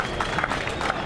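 An audience at a border post inauguration applauds the head of state, a dense, steady wash of clapping hands mixed with crowd noise for about a second.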